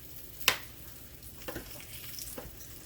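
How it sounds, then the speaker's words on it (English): Sliced mushrooms frying in leftover bacon grease for an omelet, a steady soft sizzle broken by a sharp clatter near the start and a few quieter scraping stirs, close by with no talking. "in that grease that I pulled all the bacon, I'm going to put in some mushrooms sliced up"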